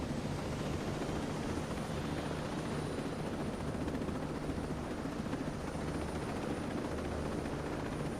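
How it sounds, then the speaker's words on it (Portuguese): A helicopter in the video game Ghost Recon Breakpoint gives a steady, loud rotor and engine drone that holds unbroken for the whole stretch, with no voices over it. "Um helicóptero ali, velho."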